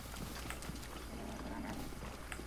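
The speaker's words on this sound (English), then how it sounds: "Oh, I spooked all the horses away." Horses clip-clopping as they run off in The Legend of Zelda: Breath of the Wild, a steady patter of hoofbeats over constant game ambience, moderately faint and with no one speaking.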